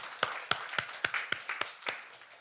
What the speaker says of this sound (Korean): 예비하시는 은혜를 베풀어 주신 하나님께 큰 영광의 박수를 올려드리겠습니다